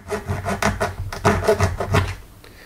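A hacksaw cuts through a plastic breadboard power strip with a series of close, rasping strokes in an uneven rhythm, loud and alone.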